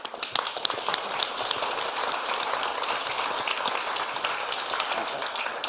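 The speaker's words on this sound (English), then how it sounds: "I think they deserve an applause" Steady, dense applause from a conference audience for the panelists at a road and rail mobility summit, continuous hand clapping filling the room throughout.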